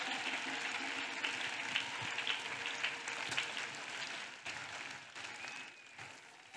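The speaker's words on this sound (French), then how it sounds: "Clap for Jesus Christ." A congregation claps during a prayer and intercession meeting, sustained dense applause heard from within the room at moderate level, tapering slightly near the end.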